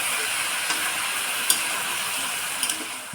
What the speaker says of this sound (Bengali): তারপরে ভালোভাবে মাংসগুলো নাড়িয়ে নিল যাতে নিচে লেগে না যায়